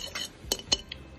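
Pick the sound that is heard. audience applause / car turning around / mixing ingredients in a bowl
mixing ingredients in a bowl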